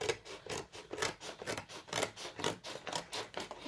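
Close, rhythmic scissors snip and rasp through doll packaging, about a dozen quick cutting strokes in a steady pattern, quiet and alone without talk.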